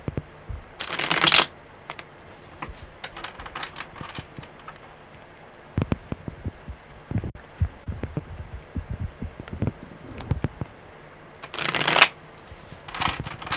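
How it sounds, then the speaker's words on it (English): Tarot cards being shuffled in two loud bursts of riffling, near the start and near the end, with softer card handling and taps in between. "Good shuffles. Really good shuffles."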